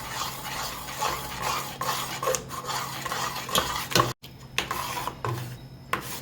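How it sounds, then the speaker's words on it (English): A spoon stirs melting cheese sauce in a pot over low heat for a spicy Trini macaroni pie, scraping and rubbing steadily in repeated strokes, close up and with no talking. "Reduce your heat to low and just keep stirring till it all melts together and thickens up"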